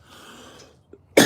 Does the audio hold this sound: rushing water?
no